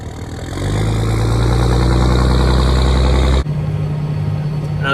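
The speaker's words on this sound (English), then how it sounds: "that truck sounds good" A truck engine on a farm at planting time rumbles into a loud, steady low idle, then the tone drops abruptly to a quieter, higher hum for the last stretch.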